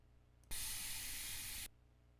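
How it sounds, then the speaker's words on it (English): A steady, bright hiss from a water bottle, lasting just over a second, close and loud, then cutting off abruptly. "And this is the sound of my water bottle."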